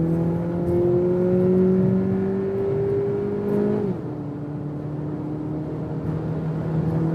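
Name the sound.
compact premium SUV accelerating at speed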